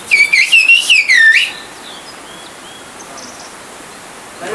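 Whistled speech of the Kuşköy valley: a quick run of loud, warbling whistled syllables lasting about a second and a half, then fading to quiet outdoor ambience with faint distant chirps.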